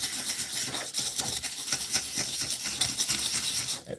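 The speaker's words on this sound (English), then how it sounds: "So we're just going to sand this." Sanding a small Gaslands model car part by hand, close scratchy rubbing strokes repeating in a quick uneven rhythm, moderately quiet, with no talking.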